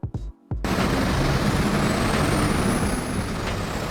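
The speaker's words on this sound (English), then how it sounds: "Police water cannon truck." A police water cannon truck with air brakes sits close by: a short burst of engine and brake noise opens, a brief gap follows, then a loud, steady broadband rush of air and engine holds through the rest, with a faint high whine.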